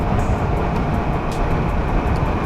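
A heavy, continuous low rumble drones steadily, like a train rolling past close by, with faint intermittent clacks over the roar.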